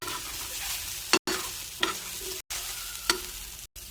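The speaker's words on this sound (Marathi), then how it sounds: "बंद गॅसवरच फक्त कांदा थोडासा परतून घ्यायचा" Onion is sautéed in a pan with the gas switched off, giving a steady sizzle broken by three distinct scraping stirs of a spatula against the metal.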